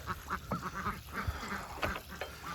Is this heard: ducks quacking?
yes